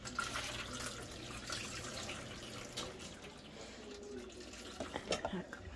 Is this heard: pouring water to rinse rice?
yes